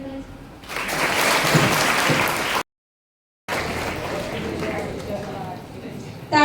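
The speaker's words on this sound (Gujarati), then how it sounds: "તાળીઓના ગડગડાટ" Audience applause at a school event honoring talented children, a steady loud clapping that cuts off abruptly, then resumes after a short silence; no speech.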